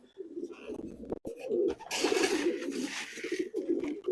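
Racing pigeons coo in soft, throaty, repeated bursts close by. A rustling wash of noise builds partway through, with no talk.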